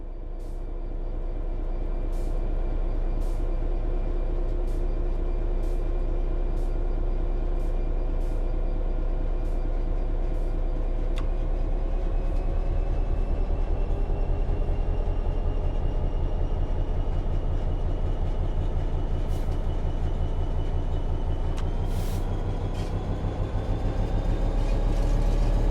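Train in Train Sim World 3 accelerating under throttle, a sustained engine and traction-motor drone whose tones slowly rise, with rhythmic clicks of wheels over rail joints throughout.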